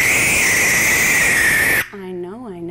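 A barn owl lets out a loud, harsh, high-pitched hissing scream lasting nearly two seconds, close and piercing, followed by a shorter, wavering, tonal cry as it breaks off.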